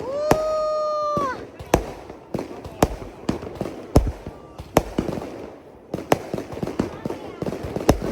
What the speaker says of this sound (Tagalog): Grabe, ang dami nilang paputok.